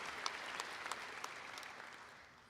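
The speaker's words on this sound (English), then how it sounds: "if we could take a second to have a round of applause for those people" Applause from a crowd at a 2022 Batavia High School graduation ceremony, a faint, distant, even wash of clapping that fades slightly toward the end.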